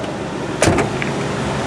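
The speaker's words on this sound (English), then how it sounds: "Sorry about the noise, we're right by the road here." Steady roadside traffic noise fills the air, a continuous broadband rumble with a brief louder surge of a passing vehicle partway through, heard close by with no talking.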